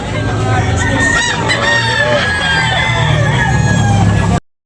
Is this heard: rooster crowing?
yes